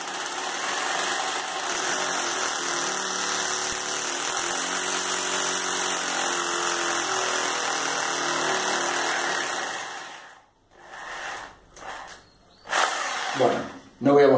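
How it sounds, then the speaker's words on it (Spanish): A drill with no hammer action boring into a wall while a ceiling drying rack is installed: a loud, steady whirring drone lasts about ten seconds, then stops, followed by scattered handling clatter and a few bumps. "Perforamos la pared, procedimiento es igual."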